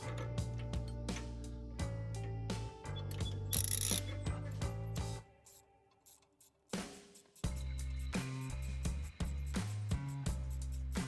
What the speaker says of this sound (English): we're going to use our 17 millimeter ratchet and our Allen wrench right in here. And we're going to tighten her down.